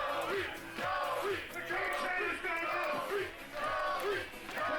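Crowd at a pistachio eating contest cheering and chanting in a rhythmic, repeated pattern of rising shouts, moderately distant, several pulses in quick succession.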